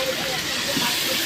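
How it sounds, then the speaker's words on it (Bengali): Spices for a meat curry are being fried in a pan. They give off a steady, close hiss with faint voices in the background. "মশলা এখনো কষে যাচ্ছে"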